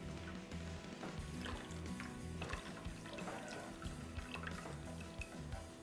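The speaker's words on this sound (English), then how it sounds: "now I'm going to add in the final step, our milk. So I'm gonna slowly introduce this." Cold milk is poured slowly into hot chocolate, giving a soft, faint trickle with light gurgles and drips that keeps going steadily.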